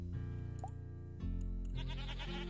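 Goat bleating in the Hexagourds video game, a pair of wavering tonal bleats over a steady music bed, close and clear with no talking.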